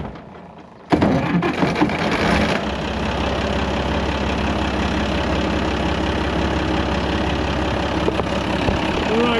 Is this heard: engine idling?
yes